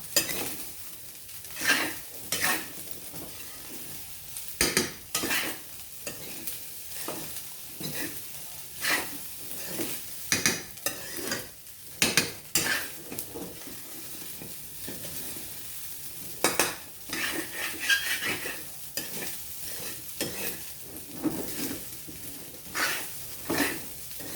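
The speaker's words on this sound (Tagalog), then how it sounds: "Halu-haluin lang natin para magpantay ang lasa." Thai pineapple fried rice being stirred in a pan: repeated scraping strokes of a utensil against the metal at an uneven rhythm, with a light sizzle underneath, close and fairly loud.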